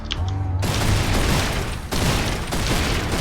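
Rapid weapon fire in Serious Sam 4, a dense, loud, unbroken stream of shots with a brief pause partway through, preceded by a short mechanical click and hum.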